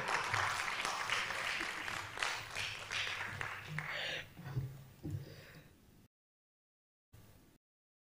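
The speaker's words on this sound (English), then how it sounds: "Please clap for this moderator." Conference audience clapping for a moderator, fairly faint and steady, tapering off into a few lingering claps before falling silent.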